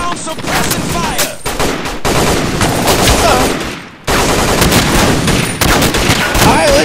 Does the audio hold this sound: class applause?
no